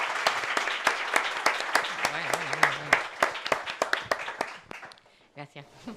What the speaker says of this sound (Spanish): Pues por favor, un aplauso.